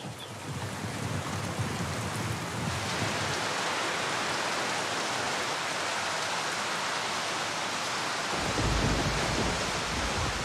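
Heavy rain pours steadily onto a leaky roof in the Philippines, a dense, loud hiss of drops with deep rumbling swells underneath, constant for the whole stretch and no voices.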